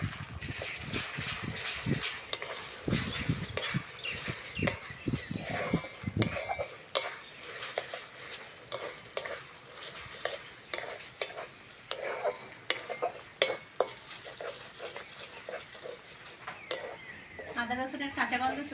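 Ginger-garlic paste fries in a pan with already-browned onions, soft sizzling under repeated sharp clinks and scrapes of a spoon stirring against the pan, close and uneven in rhythm.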